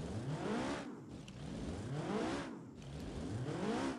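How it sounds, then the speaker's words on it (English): A Hirochi Mistral's engine in the BeamNG driving game revs up and down in repeated rising sweeps, a steady loud whine climbing through the gears with no talk over it. "Now that is an awesome engine side sound"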